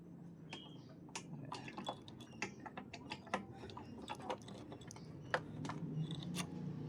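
A Suzuki V-Strom 250 SX fuel tank cap lock being worked open, heard as a run of close, sharp metallic clicks and ratcheting ticks with no talk.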